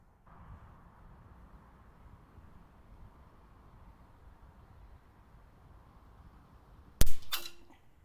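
A PCP air rifle fires a single sharp shot at a target on a 30-yard range, with a brief fading ring afterward, following several seconds of quiet background hiss.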